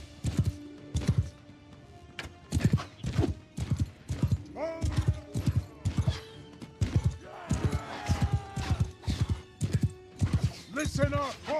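A horse in a video game, a mod of a fantasy strategy game, clops along with steady, evenly spaced hoofbeats and lets out several neighs and whinnies, while people talk over the sounds.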